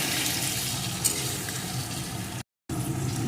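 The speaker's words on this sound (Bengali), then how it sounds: "কেটে রাখা টমেটাগুলোকে এর মধ্যে দিয়ে দেব টমেটাগুলো দু মিনিট আমি একটু ভেজে নেব" Chopped tomatoes frying in oil with spices for tomato chutney give a steady, close sizzle with a soft hiss throughout, broken by a brief moment of silence near the end.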